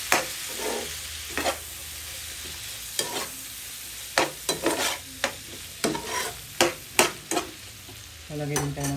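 Pork sisig made from leftover liempo, seasoned with soy sauce and pepper, being stirred in a pan: repeated sharp scraping strokes of a utensil at an irregular rhythm over a steady sizzle, close and fairly loud, with no talking.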